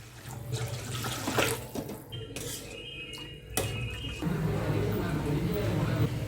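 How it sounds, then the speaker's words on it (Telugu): Water runs into a wok on a lit stove for semiya payasam, a steady close gush that changes pitch partway through, while a person speaks over it. "వాటర్ పోసుకోండి."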